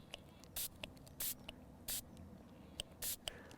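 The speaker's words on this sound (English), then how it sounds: "spray needs to be at the bottom" Several short hissing bursts of aerosol liquid bait sprayed onto a smelt, each about a quarter second, separated by soft clicks and faint handling noises.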